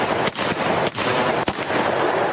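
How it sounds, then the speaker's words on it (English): Played gunshot sound effects, a loud rapid burst of gunfire with three sharp cracks standing out over continuous rattling, no talk. "Play those gunshots for us."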